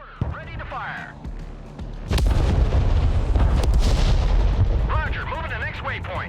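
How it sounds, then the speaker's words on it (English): A mortar unit fires in the tactical real-time strategy game Broken Arrow, a heavy boom that launches a sustained rumbling roar, with radio-style voices talking before and after. "Mortar, ready to fire."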